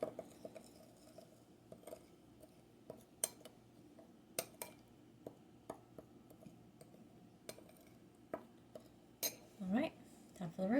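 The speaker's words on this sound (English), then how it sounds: "And then we give that a stir" A spoon stirring honey BBQ sauce in a pot, soft scattered clinks and taps against the metal at an irregular rhythm, close but quiet, with a low steady kitchen hum beneath.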